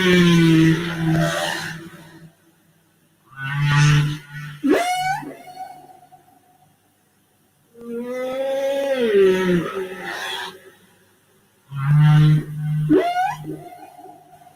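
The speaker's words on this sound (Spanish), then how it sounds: "Y el siguiente sonido es de ballenas de Hawái." Recorded humpback-style whale calls from Hawaii, long tonal moans and rising whoops in several separated phrases with quiet gaps between, clear and prominent with no talk over them.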